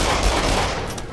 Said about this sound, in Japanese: 本格的な銃声になりました